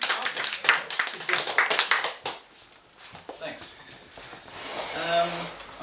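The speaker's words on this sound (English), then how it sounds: "All right, so give him a round of applause." A round of applause for a science fiction author at a reading event, brisk clapping for about two seconds that fades away, followed by quieter room noise and some speech.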